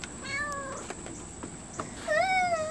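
A stray cat meows outdoors, giving a couple of soft calls and then a louder, drawn-out meow near the end, with faint background noise.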